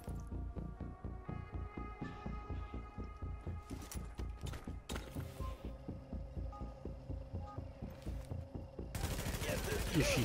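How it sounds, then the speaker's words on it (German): Rapid video game gunfire, a steady throbbing series of quiet repeated shots with a low hum beneath, ending in a louder noisy burst. "Ich schieße jetzt einfach mal"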